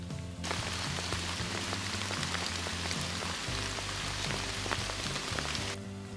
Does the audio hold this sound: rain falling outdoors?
yes